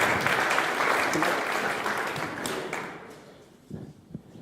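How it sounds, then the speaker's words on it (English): An audience at a human sexuality panel gives Greg a round of applause as he comes forward, a dense burst of clapping that thins and fades after about three seconds, leaving a few scattered taps. "can you please give Greg a round of applause as he comes forward"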